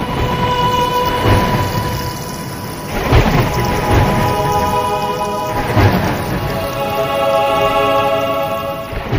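Heavy rain pours steadily over a forest, a dense hiss of downpour with swelling rolls of thunder, backed by soft sustained musical tones throughout.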